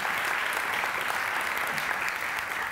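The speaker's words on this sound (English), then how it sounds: "Ronnie, big round of applause for him" A conference audience breaks into a dense, steady round of applause, broad hissing clapping that fills the room evenly from start to end with no voices on top.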